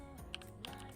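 A Linux command being typed on a computer keyboard comes through as a few faint, quick key clicks, quiet and close, with no speech.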